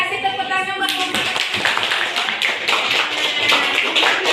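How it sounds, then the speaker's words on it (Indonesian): A school class gives a group a round of applause, with brisk, dense clapping from many hands that follows a brief voice and continues steadily to the end. "Kita kasih tepuk tangan buat kelompok."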